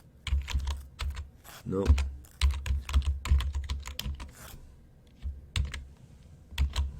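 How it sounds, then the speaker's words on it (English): Fingers typing on a computer keyboard in bursts of quick, close clicks separated by short pauses, with a brief spoken word in the middle. "I hate just typing that too because it won't do it right."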